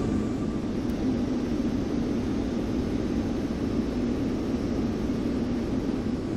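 Airliner jet engines drone through a climb after departure from Atlanta, heard as a steady, broad cabin roar that stays even and continuous, with no talking.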